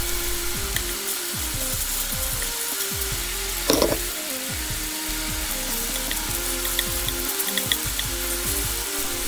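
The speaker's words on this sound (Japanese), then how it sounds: "肉を裏返しながら赤いところが少なくなるまで焼いていきます。" Pork sizzles steadily in a frying pan, a bright constant crackle layered with rhythmic scraping and clattering from a utensil moving the meat, close and loud, with no talk.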